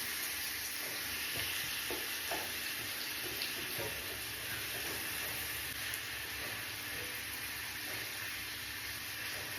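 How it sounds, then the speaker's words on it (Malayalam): Brinjal roasting in hot oil with curry leaves in a home kitchen, a steady, close, continuous frying sizzle with faint stirring clicks throughout and no talk. "നമുക്ക് വഴുതിരിങ്ങ റോസ്റ്റ് ചെയ്യാം കേട്ടോ"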